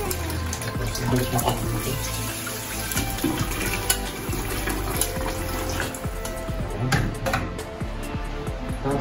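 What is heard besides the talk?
washing oysters under running tap water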